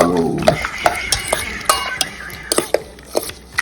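Egg being stirred into a shrimp batter for fried buttered shrimp, with a utensil clicking and scraping against the bowl in a steady series of sharp taps up close.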